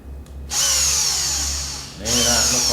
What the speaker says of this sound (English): Get a little light pressure, get the hole going, back out.